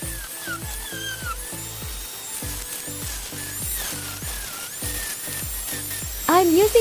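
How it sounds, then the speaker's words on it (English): A rotary tool levels and polishes a knife blade and bolsters to a mirror finish, whining in short repeated bursts with a rhythmic grinding pulse under background music. "I'm using the rotary tool to level the blade and bring the bolsters back to a mirror finish"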